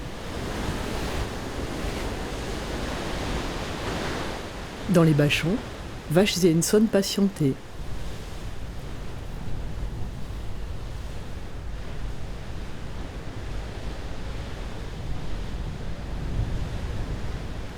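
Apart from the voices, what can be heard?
storm waves and wind on the sea front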